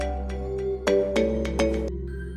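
A phone ringtone chimes in short repeated electronic bursts over a steady low hum, moderately loud and alone with no one talking.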